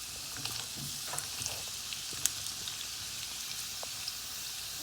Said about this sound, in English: put some oil in the pan and put the onions in there